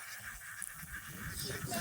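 Ducks being chased and caught by hand outdoors, giving honking, goose-like quacks in short bursts over steady background noise, with faint voices nearby.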